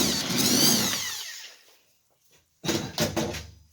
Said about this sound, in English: I drill the hole out.